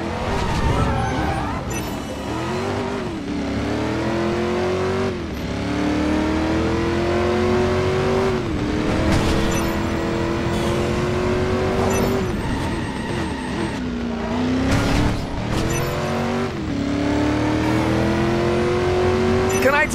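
A siren-fitted ambulance in the Driver: San Francisco driving game is floored, its engine revving hard and steadily under a wailing siren, with some tyre squeal and voices speaking over it.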